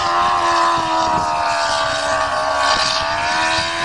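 Motorcycle-powered dune buggy driving through snow, its engine revving high near redline in a steady, buzzing drone with clear rising harmonics, loud and close, a brief pitch dip midway as throttle shifts.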